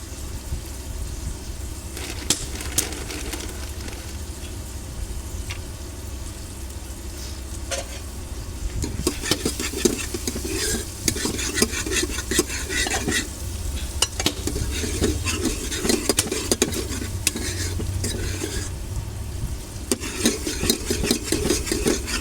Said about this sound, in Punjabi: ਆਪਾਂ ਭੁੰਨ ਲਈਏ ਚੰਗੀ ਤਰ੍ਹਾਂ ਲੋ ਜੀ ਆਪਣਾ ਲਸਣ ਪਿਆਜ਼ ਅਦਰਕ ਸਾਰਾ ਕੁਝ ਆਪਾਂ ਭੁੰਨ ਲਿਆ ਆ